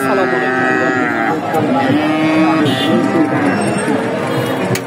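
A Friesian cow moos in drawn-out calls at a busy heifer market at Dhaperhat in Bogura, with steady crowd chatter and voices talking close by throughout.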